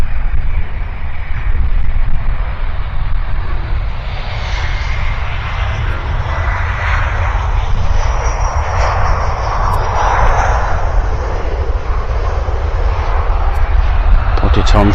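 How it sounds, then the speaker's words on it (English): A Ryanair airliner's jet engines roar at takeoff thrust at East Midlands Airport, a loud, sustained low rumble with a swelling whine, heard from a viewing area with wind buffeting the microphone and people talking nearby. "Put it on thrust again"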